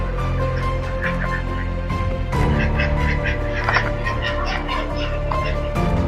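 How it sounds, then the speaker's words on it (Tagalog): Duck quacks sound at a cemetery at night over a constant loud background hum, with some nearby voices mixed in. "May pato pala."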